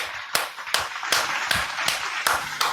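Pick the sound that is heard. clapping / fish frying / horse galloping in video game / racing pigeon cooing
clapping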